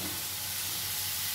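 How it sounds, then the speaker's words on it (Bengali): Potatoes fry with ginger and garlic in hot oil, giving a steady, close sizzle that hisses evenly throughout with no talking. "আদা রসুনটা একটু ভাজা ভাজা হয়ে এলে এতে আমি দিয়ে দেব আলুটা"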